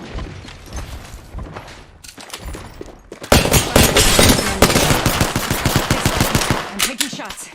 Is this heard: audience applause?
no